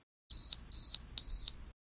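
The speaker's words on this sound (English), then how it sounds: "high pitches, or squeaky sounds like this" Three pure, high-pitched squeaky hearing test tones, clean and loud, each lasting roughly a quarter second with short even pauses between them and nothing else around.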